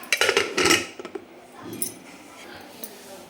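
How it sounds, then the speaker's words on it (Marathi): A pressure cooker lid being fitted and closed in a home kitchen, with several sharp metallic clinks and clatters in the first second, then a quieter scrape and a few faint knocks. "तर आपण झाकण लावून घेऊ"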